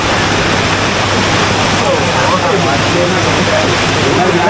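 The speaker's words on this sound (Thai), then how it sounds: "ฝนตกหนัก" Heavy rain pours down at night in Mae Kampong village, Thailand, with water streaming along the road, a loud, dense, unbroken roar of falling and rushing water.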